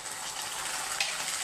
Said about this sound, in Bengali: এখন আমি দিয়ে দেব খিচুড়ি।